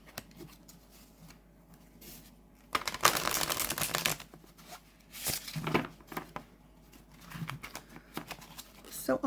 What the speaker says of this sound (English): Beautiful shuffle.